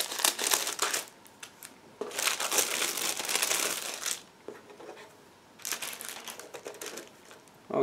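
A plastic bag holding plastic kit frames for a 1/35 Scammell Pioneer SV2S model is opened close by, giving crisp crinkling and rustling in three long bursts separated by short quiet gaps.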